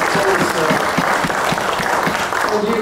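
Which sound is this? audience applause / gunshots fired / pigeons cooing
audience applause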